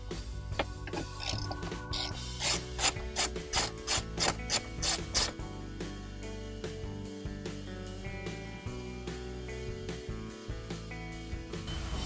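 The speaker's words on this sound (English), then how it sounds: "Once removed, 7mm socket for 4 screws, located top and center of the escutcheon." A 7mm socket ratchet backs out dashboard screws, giving a quick run of loud, sharp clicks in the middle of the clip, then softer intermittent ticking and faint mechanical rattles, close and with no voices.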